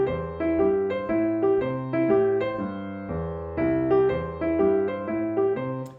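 Piano playing with a shuffle triplet swing feel, a bouncy repeating riff of chords over a bass line in a steady loping rhythm, played alone and moderately loud.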